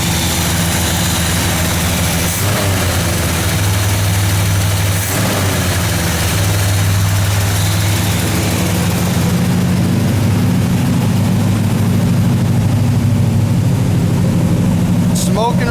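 A 1978 Chevy truck engine runs for the first time in four years, a loud, steady low rumble holding an even idle throughout, with a couple of brief knocks and a rise in noise toward the end.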